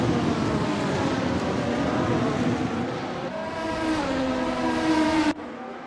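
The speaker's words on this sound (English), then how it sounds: "Screaming, shouting, and whistling over the roar of the cars" Racing cars roar around the Hockenheimring, a loud, continuous engine wail with rising and falling pitch as cars pass close by, ending in an abrupt cut.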